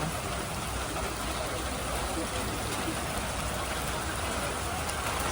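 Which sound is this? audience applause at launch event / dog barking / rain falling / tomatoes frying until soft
rain falling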